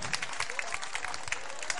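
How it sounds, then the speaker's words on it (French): An audience claps loudly and steadily through a show honoring a maestro, with a dense, continuous patter of many hands and no talk over it. "On va l'applaudir bien fort."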